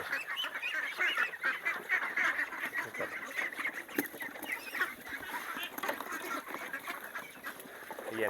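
A dense flock of egg-laying ducks quacking and honking continuously while scrambling for feed, many birds clamoring at once close by, with no talking.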